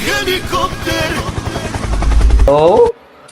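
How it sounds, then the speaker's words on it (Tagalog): Helicopter in a PC video game, its steady rotor drone mixed with bursts of gunfire and game effects throughout, loud and continuous, cutting off abruptly near the end, with a player's voice over it. "Helicopter!"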